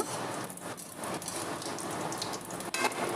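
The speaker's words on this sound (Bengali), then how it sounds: "এটাকে আমি ভালো করে ভেজে নেব" Continuous crackling sizzle of whole spices and a dried red chilli frying in hot oil, steady and fairly close, with no voices.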